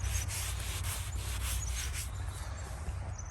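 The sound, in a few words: rubbing snow into a gravestone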